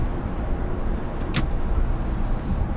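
Cabin sound of a 2014 Honda Accord V6 pulling at full throttle in sport mode, a steady broad engine and road roar from inside the car with a brief high squeak partway through.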